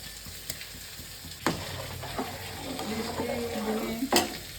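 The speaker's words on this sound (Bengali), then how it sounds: "এবার চালটা একটু ফুটে এসছে, এই চালের মধ্যে আমি এই ডালটা দিয়ে দেবো।" Soaked lentils tipped into a pot of boiling Gobindobhog rice for vegetarian khichuri, giving a soft splash and stirring with bubbling and sizzle underneath, a few sharp clanks of a spoon on the pot, close and moderately loud.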